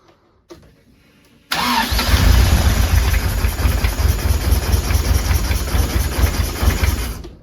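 A motorcycle engine with a knocking fault cranks and fires, then runs steadily at a loud, close rough idle with a persistent rattle, no talking.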